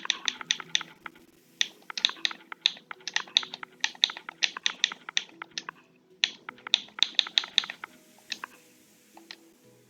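Rapid bursts of keystrokes on a computer keyboard entering a structure name for a Minecraft build, crisp close clicks in quick irregular clusters separated by short pauses, with no talk.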